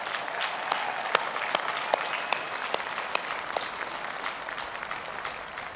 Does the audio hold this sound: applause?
yes